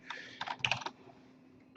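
Fingers tap on a computer keyboard while an expense entry is filled in at a desk, giving a few quick, light clusters of keystrokes close by and then quiet, with no voice.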